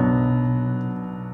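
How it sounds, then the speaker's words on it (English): A perfect cadence, dominant chord resolving to tonic, played as sustained rich harmonic chords that ring and slowly fade, with no voices over them. "Perfect cadence sounds like this."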